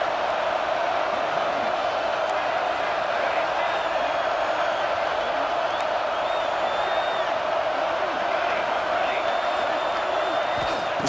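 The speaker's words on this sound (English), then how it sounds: "This crowd looking for a big 4th down stop." A stadium crowd in the CFB 26 football video game roars as a sustained, dense wall of noise ahead of a 4th down, with faint whoops and whistles rising over it.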